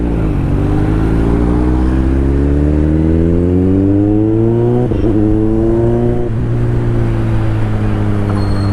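A Toyota Fortuner engine revving through its exhaust, a loud, continuous drone that climbs steadily in pitch and then dips twice before settling, close and alone without talk.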